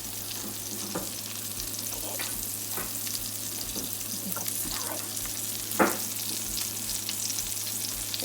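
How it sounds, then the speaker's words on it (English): Butter sizzling and starting to burn in a hot pan with sage-seasoned pork, a steady close frying hiss with occasional louder crackles and spatters, a low mains hum beneath and no talk. "Your butter's burning."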